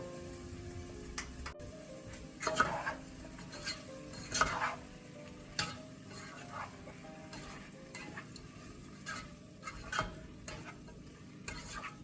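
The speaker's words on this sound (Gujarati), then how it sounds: "અને આપણે તેને હલાવીને મિક્સ કરી દઈશું." Scraping and stirring of pasta with cheese sauce in a pan with a soft sizzle underneath, occasional louder clinks and scrapes recurring every couple of seconds, fairly close.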